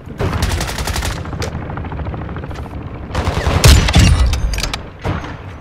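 Loud, close gunfire in Call of Duty: Modern Warfare 2, with rapid automatic bursts in two clusters and a short lull between them, punctuated by heavier booming shots and no speech over the firing.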